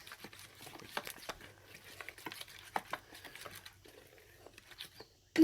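Wet stirring and patting as chicken tikka is mixed with oil and spices by hand, soft irregular squelches and taps close up, quiet throughout with a louder burst at the very end.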